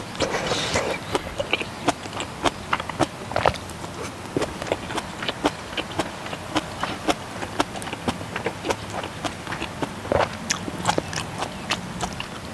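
Close, steady chewing and biting sounds as pork kimchi stew is eaten, with soft rhythmic mouth noises and occasional clicks continuing throughout.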